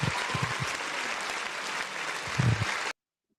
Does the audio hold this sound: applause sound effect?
yes